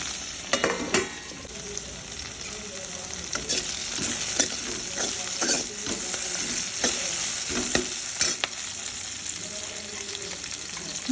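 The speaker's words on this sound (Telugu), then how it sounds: "ముక్కలన్నీ మగ్గుతున్నాయి మెల్లగా" Mixed vegetable pieces for sambar, including cucumber and tomato, soften and sizzle gently in a pan, with a low continuous hiss and scattered clicks and scrapes of stirring throughout, fairly quiet and close.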